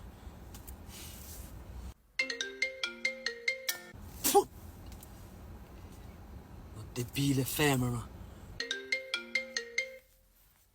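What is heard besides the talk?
mobile phone ringtone ringing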